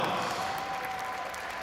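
A gymnastics meet crowd applauds members of the 1975 California team standing in the audience, a brief, steady wash of clapping with a faint tonal hum underneath.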